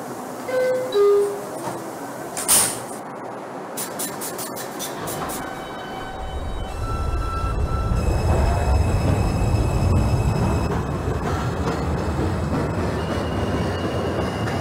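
A New York subway 2 train in the OpenBVE train simulator game, running from Wakefield-241st Street toward Flatbush Avenue: door chimes and high squeals early on, then a steady loud rumble of the train accelerating and rolling along, with no talk.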